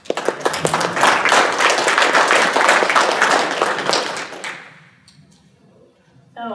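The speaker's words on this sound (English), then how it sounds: "I'm going to clap." Dense, loud applause fills a sustainable farming and food systems forum for about four and a half seconds, then thins out and dies away into near quiet.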